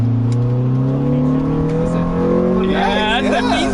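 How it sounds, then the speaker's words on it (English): Car engine in a racing video game, a V-Series model, giving a steady rising intake growl and exhaust drone as it accelerates, loud and continuous with tire and road noise building near the end. "it does have that little bit of an intake growl to it now, but it's still very like reasonable"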